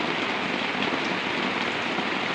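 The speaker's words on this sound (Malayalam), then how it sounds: "നല്ല മഴ" Heavy rain pours down in a dense, even hiss, steady and close, with no voices.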